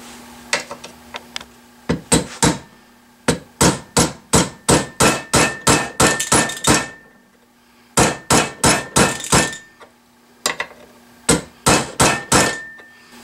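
Repeated hammer blows strike a punch to drive out a part on a Saiga 12 shotgun, loud, sharp metallic hits coming in quick bursts with brief pauses between groups.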